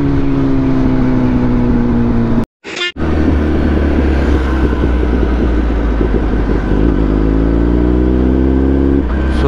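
A Kawasaki ZX-10R motorcycle engine runs loud and close, with a brief cut near the start before it picks up again as a steady, droning ride-off with a rising rev toward the end.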